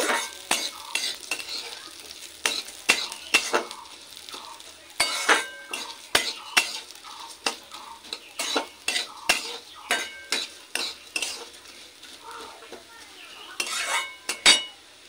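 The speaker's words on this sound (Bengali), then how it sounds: "তো ডালটাও একটু নেড়ে নেব।" Moong dal with bottle gourd is stirred in a metal pot over a faint sizzle, with irregular sharp clinks and scrapes of the spoon against the pot, close and crisp, with no voices.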